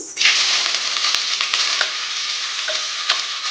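Onions sizzle and fry steadily in a hot pan at the start of a mushroom curry with bay leaves, a bright continuous hiss with occasional stirring scrapes and pops, close and alone.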